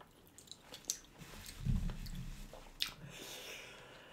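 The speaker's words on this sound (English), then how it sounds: "The more I chew, the spicier it gets." Someone chews a mouthful of waakye, Ghanaian rice and beans, with fish and spicy stew, making soft, close, squishy mastication sounds with a few crisper bites over a quiet background.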